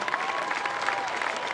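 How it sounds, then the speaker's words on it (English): A local crowd at a Canada Games men's baseball game between Nova Scotia and Newfoundland and Labrador claps in a steady, dense round of applause that stays even throughout. "So they get a nice round of applause from the local crowd."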